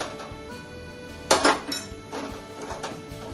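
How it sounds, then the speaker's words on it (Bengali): Paneer poured into a pan with green chili: a sharp metallic clatter of utensil against the pan, followed by a few lighter clinks and scrapes over a quiet sizzling background, with no talking. "কাঁচা লঙ্কা দিয়ে পনিরটাকে আবার ঢেলে দিচ্ছি"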